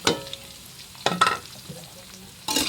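Onion and garlic sauté in a pan as several short, loud bursts of sizzling and stirring, separated by quieter gaps.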